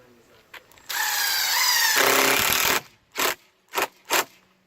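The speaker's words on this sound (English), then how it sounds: "I'm pre-drilling that 2x6 into the 2x4" A power drill whirs into wood, pre-drilling a 2x6 into a 2x4 for about two seconds, its pitch dropping as it bites, then a few short bursts of drilling follow.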